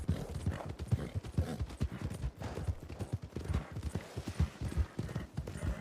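A horse gallops continuously in Red Dead Redemption 2 roleplay, its hooves pounding in a quick, even rhythm at close range.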